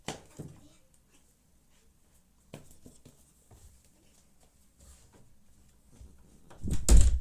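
A quiet room in a game with scattered soft knocks and clicks, then a louder clatter near the end as a cat pushes a door open close by.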